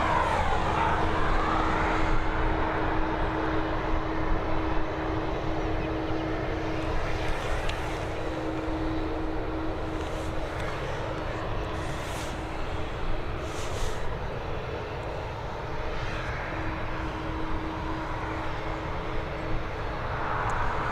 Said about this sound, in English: It's a Mitsubishi CRJ 900ER. It's operated by X-Fly. It's heading over to Copenhagen.